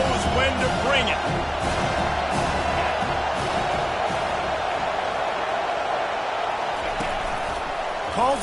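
Roaring stadium crowd in a football video game, a constant dense wash of cheering and whoops running under a play-by-play commentator's voice.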